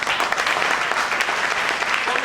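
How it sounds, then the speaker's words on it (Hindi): Audience applause at a network marketing training session, a dense, steady burst of many hands clapping together, loud and close, sustained without pause. "जोरदार तालियां सभी के।"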